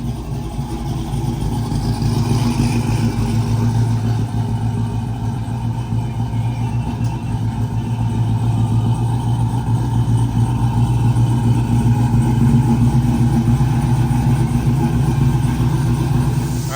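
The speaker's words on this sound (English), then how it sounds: "Brandon's pulling his truck around so they can load up the Hayabusa so Brandon can take that back down to South" A pickup truck engine runs steadily while the truck is driven around at Biketoberfest, a continuous low mid-range drone that holds at a fairly even level throughout, with no talk over it.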